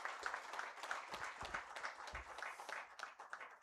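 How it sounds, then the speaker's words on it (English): Audience at an international geomechanics symposium applauding a welcome, a soft, steady patter of many hands heard faintly from a distance. "Let's give a big round of welcome applause for her."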